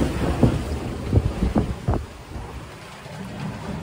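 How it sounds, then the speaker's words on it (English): A sailboat beating to windward in roughly 18 knots of wind gusting to 20, with a second reef in the sail, gives steady wind rush and water noise. Several louder splashes of hull through waves come in the first two seconds, and no one speaks. "we're beating our way to windward. Got about 18 knots of wind, gusting to 20"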